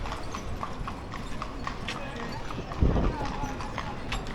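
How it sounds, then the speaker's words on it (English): Steady clip-clop of horse hooves on a hard road in Vienna, close by, with a voice talking over the rhythmic footfalls. "Horse riding."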